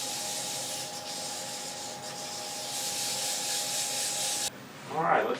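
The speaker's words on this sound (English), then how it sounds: "go ahead and do a little bit of sanding" Steady, bright rubbing hiss of sandpaper on wood spinning on a lathe, with a constant motor hum underneath, continuous and close before cutting off near the end as a brief voice is heard.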